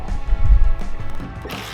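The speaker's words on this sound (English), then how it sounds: "We gotta remove this 10mm bolt here that was hidden behind the trim, and the two upper ones right there" A ratchet working on 10mm bolts on a Toyota Tacoma airbag bracket, giving a few short close clicks and creaks alongside low handling thumps.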